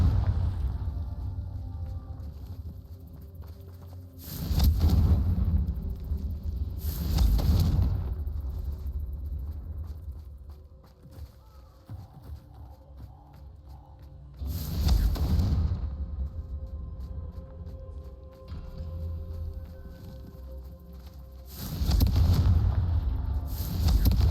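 Fiery Confringo spell blasts in the Hogwarts Legacy video game sound as four loud, booming explosions with rumbling tails, spaced several seconds apart over low ambient game noise.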